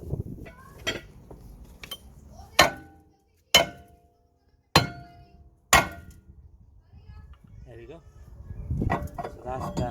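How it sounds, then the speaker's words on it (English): Four sharp metallic hammer strikes on a Kia Ceed rear brake disc ring out with pauses between them, each a hard clang with a short ringing tail, amid faint clatter and rustling. "we're going to tap the disc"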